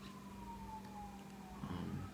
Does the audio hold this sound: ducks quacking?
no